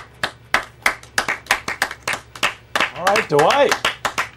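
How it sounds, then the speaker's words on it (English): Office coworkers give Dwight Schrute a round of applause, a small group of distinct, close hand claps in an uneven patter, with people talking over it. "how about a big round of applause for Mr."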